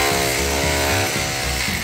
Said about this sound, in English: the fine and non-existent art of drilling holes into bricks without making them crack